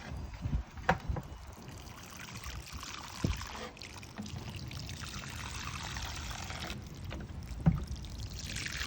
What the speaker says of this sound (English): Do not water the plant on top of it like this.